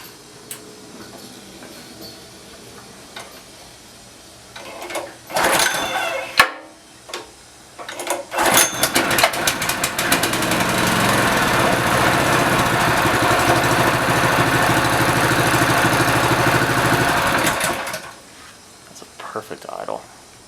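After a few knocks and bumps, a Honda engine on a Dewalt pressure washer with a bad carburetor starts and runs loudly with an uneven, rattling idle for about ten seconds, then cuts off.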